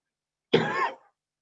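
A single short, harsh allergy cough from a speaker during a lecture, close and clear, in otherwise silent surroundings.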